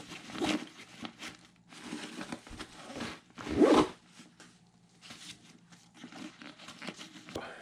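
Close, soft zipping strokes of a large zipper on a camera gear bag being pulled, several short runs with one louder pull midway, amid light fabric rustling.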